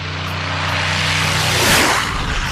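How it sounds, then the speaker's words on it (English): A propeller plane roars past very close and loud as it takes off, with a swelling engine drone that peaks and then drops in pitch as it passes, with no voices heard. "This reporter nearly gets hit by a plane taking off"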